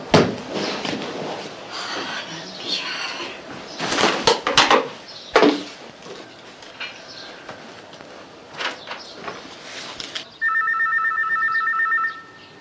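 A home landline telephone rings in steady electronic bursts near the end, after a stretch of clattering and rustling household noise, with no voices.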